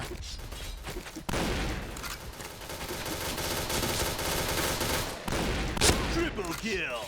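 Sustained rapid gunfire in a shooter video game, a dense, loud burst that runs continuously for several seconds after a brief pause, then breaks off and resumes with scattered shots.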